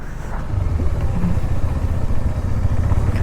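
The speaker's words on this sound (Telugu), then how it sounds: "మేము ఇప్పుడు ఏం చేస్తున్నామంటే బైక్స్ని కూడా లోపలికి తీసుకొని వెళ్ళిపోతున్నాం." Motorbikes being ridden in on a hill-station road, a steady close engine rumble with some mechanical clatter throughout, no voices.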